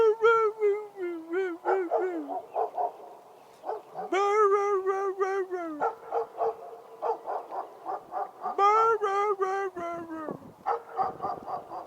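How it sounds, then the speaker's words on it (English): A dog howls in long, rising and falling wails, broken up by short barks and whimpers, close and loud, repeating over several seconds. "There's always a dag-blasted dog in one of my videos."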